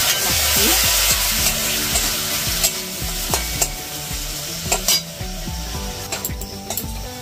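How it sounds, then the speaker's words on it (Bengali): Spice masala being cooked down in a pan for fish kochuri filling, a steady close sizzle with repeated scraping stirs of a spoon against the pan, no talking. "দেখো বন্ধুরা মশলাটাকে কষিয়ে নিয়েছি।"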